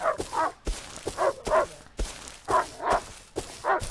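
A coyote in the Rust survival video game barks in quick, repeated yips and yelps, about eight sharp calls in an uneven rhythm, close and loud with no talk over them.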